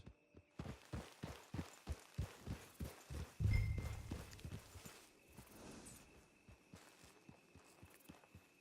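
Horse hooves clip-clop in a steady walking rhythm in Red Dead Redemption 2, close and fairly quiet, with a brief low thump midway and the footfalls continuing evenly alone.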